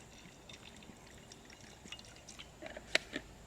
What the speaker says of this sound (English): I'm just going to put these in a bowl with a little bit of water.